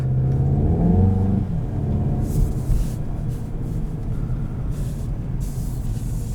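A 2021 Volkswagen Golf GTI with a DSG gearbox, driven in cold conditions on summer tires, gives a steady drone of engine and road noise from inside the cabin. An early rise in revs eases into a smooth cruising rumble.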